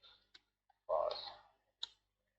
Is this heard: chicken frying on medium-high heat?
no